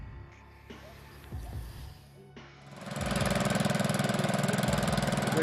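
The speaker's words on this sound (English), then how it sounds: "the hum of the Gravely tractor" A Gravely tractor engine hums in a rustic setting: quiet at first with some knocks, then swelling after a few seconds into a loud, steady, throbbing drone.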